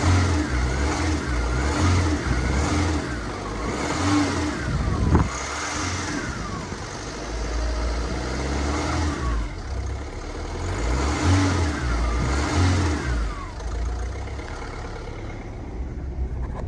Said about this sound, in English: So the idle seems to be settling down a little. It's a little bit lumpy.